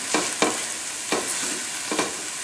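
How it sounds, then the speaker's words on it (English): Onions, celery and mushrooms deglazing in a pan, a steady hiss of sizzling broken by four distinct scraping stirs, close and alone with no talking. "It's deglazing. The moisture comes out of the onions and the celery."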